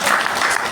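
An audience at an Arya Samaj religious discourse in Noida claps together in a dense, steady burst of applause that is loud and close, with no speech over it.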